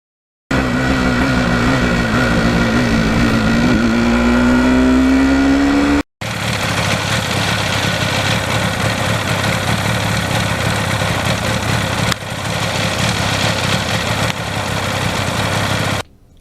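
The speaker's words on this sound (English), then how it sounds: "the bike really runs great with the stock exhaust." Two-stroke engine of a 1977 Yamaha RD400 motorcycle on its stock exhaust, running loud and close in a steady buzzing drone, rising in pitch as it revs during the first few seconds, then continuing as a sustained run after a brief cut.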